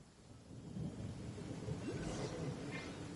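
A tame thunderstorm in the video game Genshin Impact, with a low rumble of thunder rolling under steady rain for a few seconds, no voices over it.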